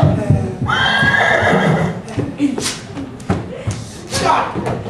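A loud, close horse whinny rings out, followed by thumps and shuffling, with people shouting over it.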